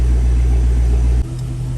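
A base-model Chevrolet C5 Corvette engine idles while warming up, a steady close-up low rumble and hum that drops to a slightly quieter, lower tone about two-thirds of the way through.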